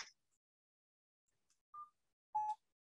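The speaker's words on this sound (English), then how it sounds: "My phone ringing." A mobile phone gives a few sparse, faint electronic tones, two short beeps standing out near the end against silence.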